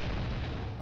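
Explosion in the horror video game Evil Nun, a loud, dense burst of low rumble that fills the whole moment with no trailing quiet.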